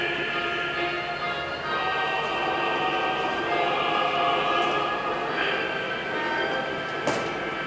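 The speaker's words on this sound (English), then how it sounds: "this is actually their scene showing the train coming out." A rail train emerging from a hidden tunnel complex, a steady continuous rumble with metallic tonal whine throughout and a brief sharp clank near the end, heard without speech.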